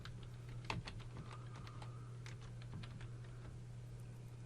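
A file name typed on a computer keyboard, a quiet run of light key clicks at an uneven pace over a steady low hum.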